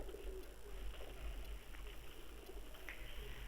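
Soft, low pigeon cooing drifts faintly through a steady background hum, with no talking.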